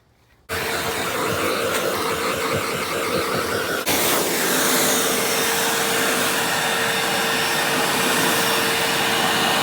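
A Tacklife wet vac switches on after a moment of quiet and runs loud and steady, a close broad whooshing roar with a thin whine held under it.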